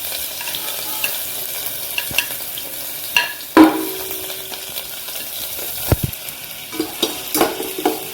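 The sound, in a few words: chopped ginger and garlic sautéing in oil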